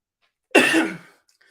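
A single harsh cough with a throaty, clearing edge, close and loud, bursting out after near silence and fading within about half a second.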